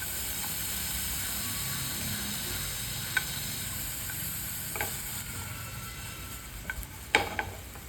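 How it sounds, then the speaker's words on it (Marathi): Tomatoes shallow frying in a pan alongside mushrooms give a steady, even sizzle with a soft hiss, broken by a few faint clicks and pops near the end; no voices. "आणि आपण ह्याच पॅनमध्ये टोमॅटो शॅलो फ्राय करणार आहोत"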